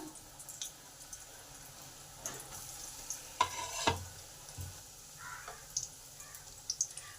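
Fish fingers fry in hot oil over medium heat, sizzling steadily at a low level, with occasional clinks and scrapes of a utensil stirring in the pan.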